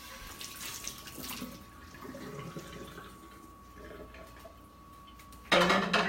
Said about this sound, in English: I'm going to wash my pan in water.